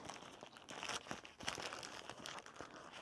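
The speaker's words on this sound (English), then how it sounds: "Let's unwrap this very carefully" Paper wrapping around a tower burger topped with onion strips is carefully peeled open, producing close, steady crinkling and crumpling with a few sharper rustles, and nobody speaks.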